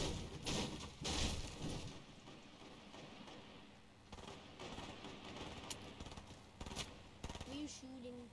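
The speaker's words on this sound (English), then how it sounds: "someone's shooting" Gunfire in a multiplayer shooter video game crackles in scattered bursts and single sharp shots amid a rain-like hiss, with faint voices talking in the background.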